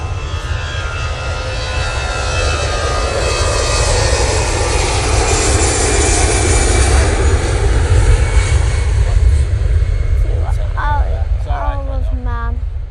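An EasyJet airliner at Manchester Airport roars loudly with a steady, broad jet-engine rumble that swells and holds for most of the clip, then eases as brief voices talk near the end.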